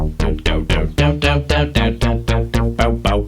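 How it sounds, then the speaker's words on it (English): A punchy, low synth bass plays a steady rhythmic line of repeated plucky notes, loud and upfront with no talking. "basically, yeah, it's a cool synth bass."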